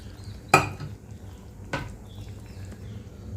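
Mashed ponnanganni greens cooked with lentils go into a pan and are mixed in, two sharp clanks of a metal spoon on the pan over a faint low simmer, with no voices.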